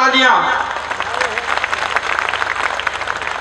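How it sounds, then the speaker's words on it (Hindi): Loud crowd applause at a BSP political rally in Jalandhar, with a brief burst of a speaker's voice at the start before dense, steady clapping takes over and continues to the end. "जोरदार तालियां।"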